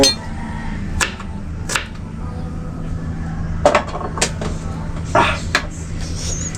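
A knife slices onions on a board in a few sharp, separate chopping knocks with short gaps between them, close and fairly loud over a low steady hum.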